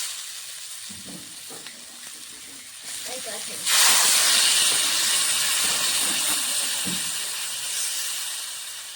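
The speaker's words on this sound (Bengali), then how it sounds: "মশলা এখন জল দিয়ে দেবো।" Water poured into a pan of sautéed, spiced mixed vegetables for a lentil-and-vegetable dish erupts into a loud, sudden hiss of steam that stays strong and slowly eases, after a few seconds of quieter kitchen clatter and a voice.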